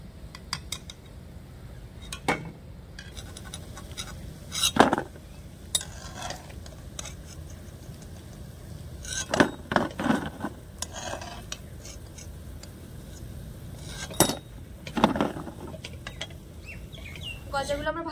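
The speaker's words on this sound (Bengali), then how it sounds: "এবার আমি গজাগুলো তেল থেকে ঝরিয়ে নেব।" Fried gaja sweets are lifted from hot oil in a pan, giving sharp metallic scrapes and clinks from a slotted spoon at irregular intervals, with quieter rustles between them.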